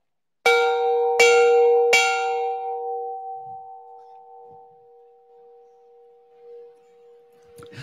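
A bell rung at a charity auction gala strikes three quick clanging hits, then its metallic tone hangs and slowly fades over several seconds in a quiet room, with faint murmurs near the end.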